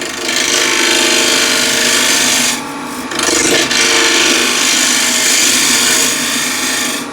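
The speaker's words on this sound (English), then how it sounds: "So now I'll use this left wing of the gouge as a scraper." Bowl gouge, its left wing used as a scraper, rasping steadily against a wooden bowl spinning on a lathe. The scrape is loud and continuous, breaking off briefly twice partway through, with no speech.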